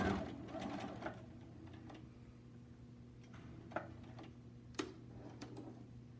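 A sewing machine stitches with thread, its motor running in a steady, even hum for a few seconds with a handful of faint clicks over it.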